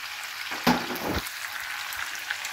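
Frozen ampalaya hits a pan with tomatoes and garlic, giving a soft, steady frying sizzle with a brief louder hiss as it goes in, heard alone and at moderate volume.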